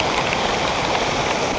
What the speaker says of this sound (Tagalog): Grace, lakas ng ulan.